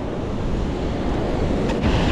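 Large ocean waves surge onto the shore after a typhoon, a steady loud roar of churning surf with wind buffeting the microphone throughout and a heavier wash rising near the end.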